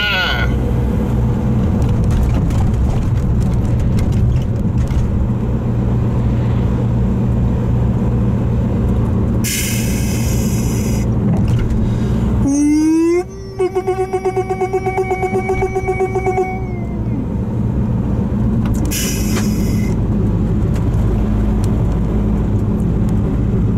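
A car drives along a road near Groningen, its engine and tyre drone a steady, loud low rumble throughout, with brief higher whines and a rising tone partway through, heard from inside the car under occasional talk.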